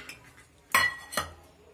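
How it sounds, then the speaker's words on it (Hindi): Potato pieces and soybeans dropped into a metal pressure cooker, two sharp clanking hits on the pot about half a second apart, close and loud in a quiet kitchen. "आलू और सोयाबीन को कुकर में डालेंगे"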